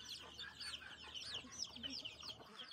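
Native chicken chicks chirp and cluck during vaccination, a busy run of high peeping calls close by with a faint voice underneath.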